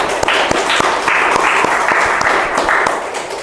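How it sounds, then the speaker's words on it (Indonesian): Audience applause at a student sports talk event, a steady dense wash of many hands clapping close by, sustained and loud throughout with occasional sharper individual claps standing out. "Tepuk tangan dulu dong"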